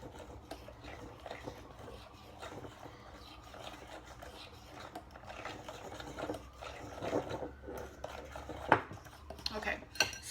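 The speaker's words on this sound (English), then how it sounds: "Mix this in." A spoon or whisk mixes protein powder, flax meal and almond milk into a batter in a bowl, with irregular scraping and clinking strokes up close, a few sharper taps near the end.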